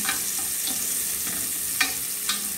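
Bacon fries in a pan with a steady, loud sizzle and crackle, broken by a few soft clinks and scrapes of a utensil stirring, close up with no talk.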